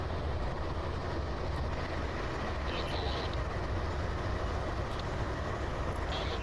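A BCOL freight locomotive runs in Train Simulator Classic during a blizzard, giving a steady, dense rumble of engine and rolling stock with faint higher clanks, unchanging and loud throughout.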